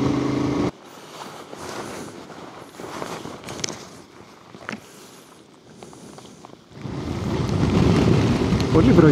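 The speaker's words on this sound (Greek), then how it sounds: "Πολύ βροχή, δεν λέει να κόψει." Steady heavy rain hisses and patters, swelling louder toward the end, with scattered thumps and some movement sounds mixed in.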